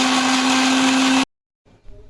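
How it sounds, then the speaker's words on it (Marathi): A mixer grinder blends coriander, chillies, garlic and ginger with a loud, close, steady whirring roar that runs for over a second, then cuts off abruptly, leaving near silence and a faint clatter. "तर मिक्सरला लावून घेऊया हे।"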